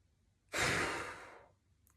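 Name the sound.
powerful exhale during kundalini yoga breathing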